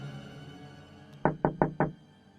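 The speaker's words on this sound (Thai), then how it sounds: "ทันทีที่หันไปตามเสียงเคาะ" Four quick, evenly spaced knocks rap on a car window in a dark roadside stop, sharp and close after a stretch of quiet hum.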